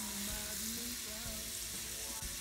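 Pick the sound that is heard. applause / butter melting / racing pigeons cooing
butter melting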